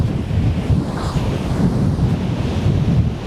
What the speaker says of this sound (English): Just fun to watch those waves and try and get the one that's the best.